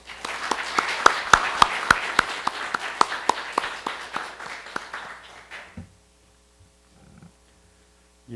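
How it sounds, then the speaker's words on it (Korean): A welcoming round of applause for a speaker at a Korean legal academic conference, crisp individual claps from a modest audience building and then fading out, leaving near silence before a faint bump at the very end. "큰 박수로 환영해 주시기 바랍니다."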